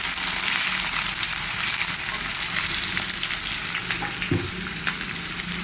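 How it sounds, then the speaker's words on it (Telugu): Dried red chillies fry in hot oil for a rice flour upma, giving a loud, steady sizzle throughout, with a brief clatter of stirring near the end and no voices. "నెక్స్ట్ ఎండుమిర్చి వేసి కాస్త ఫ్రై అవ్వనిద్దాం."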